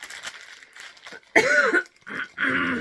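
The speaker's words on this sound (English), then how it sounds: "I'm so tired of coughing." A few sharp coughs close by, with short pauses between them and a throat-clearing rasp.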